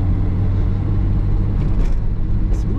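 A 1967 Mercedes-Benz 250SL Pagoda runs on the road with a steady low engine rumble and road noise, close and continuous, with no one speaking.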